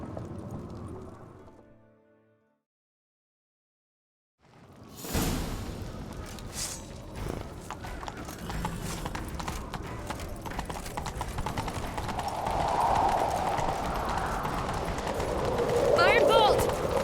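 After a brief quiet gap, rapid hoofbeats of a horse in The Witcher 3 video game gallop steadily and close, with whooshing movement and rising rumble beneath.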